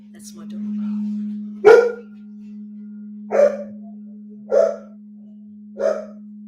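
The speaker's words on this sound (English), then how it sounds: "That's my dog." A dog gives four short, sharp barks spaced a second or so apart, heard clearly but somewhat off to the side over a steady low electrical hum.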